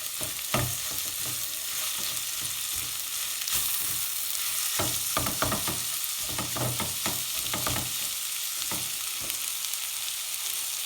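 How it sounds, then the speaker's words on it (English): Onion sweating and frying in a pan for a BIR-style chicken curry, a constant loud sizzle with scraping, knocking stirs throughout and no talking. "All we're going to do now is just sweat the onion, just get it really nice and soft"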